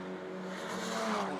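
A Mazda MX-5 race car streaks past the start-finish line at Snetterton, a brief engine whoosh rising as it goes by, heard fairly faintly at a distance.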